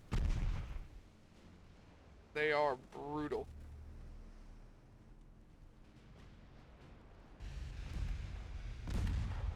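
Naval gunfire shell hits in the Ultimate Admiral Dreadnoughts warship game, including a 12-inch gun hit, heard as deep low booms at the start, middle and end under a voice.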